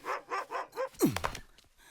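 A dog barks four times in a quick, even series, then gives a rising whimpering yelp and a few softer sounds, fairly faint and with no talk over it.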